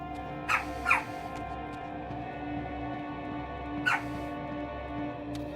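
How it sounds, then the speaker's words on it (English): A dog barks a few times, two quick barks close together and then a single bark a few seconds later, over a quiet indoor hum. "He's barking at people outside."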